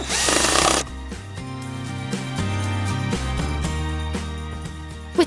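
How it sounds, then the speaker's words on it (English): A power drill whirs loudly for under a second while loosening bolts on a tractor, then gives way to steady tonal mechanical sounds. "That is the power drill, loosening the bolts."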